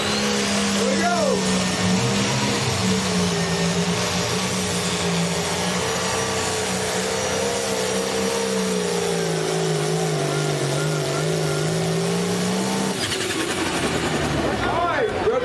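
Roaring pulling tractor engine at a county fair tractor pull, held at high revs with a steady droning pitch that shifts slightly, loud and close, with an announcer talking over it.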